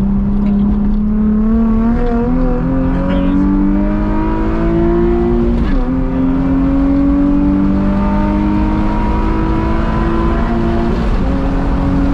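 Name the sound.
Nissan 350Z accelerating hard onto the interstate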